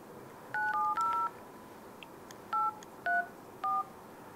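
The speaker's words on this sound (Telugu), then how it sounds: "ఇప్పుడు ఇంకొకసారి నేను సునీల్కి ఫోన్ చేస్తాను." A telephone keypad dials with clear beeping tones, a quick run of three beeps followed by three more spaced single beeps, fairly faint over a soft background hiss, with no talking.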